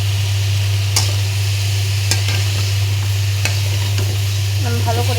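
Chopped ridge gourd and prawns sizzle loudly in a pan over a steady hum, with occasional sharp clicks of a utensil stirring and scraping the mixture.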